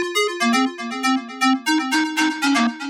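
A breathy synthesized pan flute plays a quick, lilting melody of short plucked notes, close and clear, with airy noise rising toward the end.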